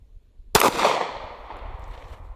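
One sharp gunshot from a 30-30 derringer fired over a chronograph cracks loudly at close range, followed by a long, fading reverberant tail.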